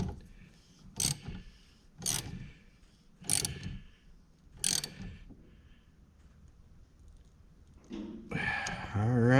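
A 10 mm ratchet cranks in short bursts, with four distinct clicking runs and a pause, while tightening the battery terminal on a GMC 2500 HD; a brief voice follows near the end.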